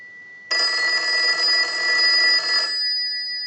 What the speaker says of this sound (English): We're going to use the analyzer and ring the unit.